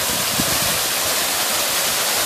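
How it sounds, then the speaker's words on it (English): A man-made waterfall at a lake pours steadily, a constant broadband rush of falling water filling the scene without pause. "There's a waterfall here, man-made."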